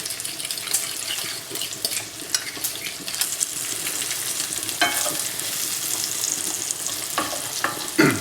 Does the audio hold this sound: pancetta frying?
yes